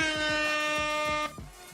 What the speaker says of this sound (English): That air horn, by the way, it's my favorite sound ever